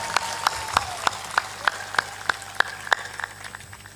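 Rhythmic group clapping from an audience at a Hindi satsang, about a dozen evenly spaced sharp claps at moderate loudness over a faint room hum.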